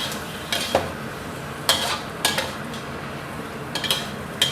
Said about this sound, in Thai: คราวนี้นะครับเราก็ผัดจนทุกอย่างเข้ากันสุกตามต้องการได้เลยครับ